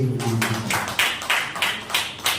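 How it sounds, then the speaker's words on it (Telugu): Congregation at a Sunday church service clapping loudly together in a steady beat of about six claps, following a brief voice at the start. "గట్టిగా చప్పట్లు కొడుతూ"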